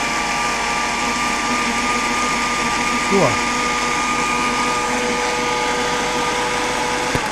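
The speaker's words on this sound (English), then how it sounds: "this is my brand new blender" A brand new blender whirs steadily as it blends pineapple and apple juice, a constant motor hum running the whole time, with a brief voice heard partway through.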